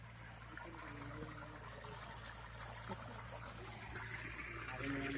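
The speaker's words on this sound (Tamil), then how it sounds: "தண்ணி ஓடின்னு இருக்குது" Water running from the 2.5-inch delivery pipe of a 3hp PMSM solar pump in Pudukkottai, a continuous soft trickling flow under a low steady hum, fairly faint and distant, with a voice speaking faintly.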